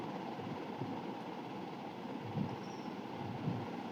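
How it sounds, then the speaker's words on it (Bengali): Inside a moving train carriage, a steady low rumble and rattle runs throughout, with faint soft knocks and no voices. "এবার আমরা ট্রেনে উঠে গেছি,"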